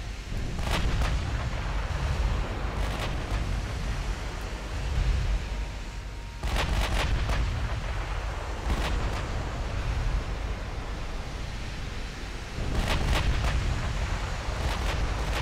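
Battleship guns fire in a naval battle in the video game Ultimate Admiral Dreadnoughts, heavy booming salvos arriving in clusters over a constant roaring sea-and-battle rumble, with no talk.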